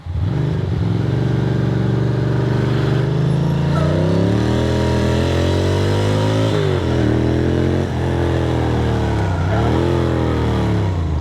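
A motorcycle engine runs steadily throughout, its revs rising and falling in smooth waves with a few dips around gear changes, loud and close as if from the rider's position.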